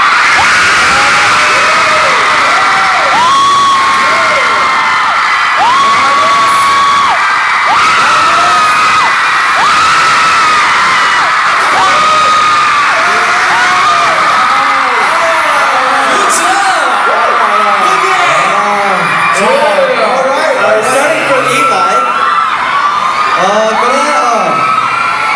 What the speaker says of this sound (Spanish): Queremos oírlas gritar lo más fuerte posible.